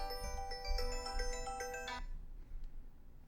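A phone ringtone for an incoming call plays as a bright repeating electronic melody for about two seconds, then cuts off, leaving faint low background hum.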